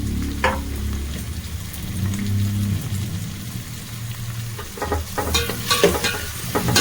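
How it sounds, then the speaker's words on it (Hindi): Chopped tomatoes go into a pan of frying onions for a pasta sauce and get stirred, giving a steady close sizzle with scraping spoon strokes and a livelier burst of sizzling and clatter toward the end. "प्याज अच्छे से हो गई है, इसमें अपने कटे हुए टमाटर डाल देंगे।"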